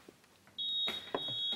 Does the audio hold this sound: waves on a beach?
no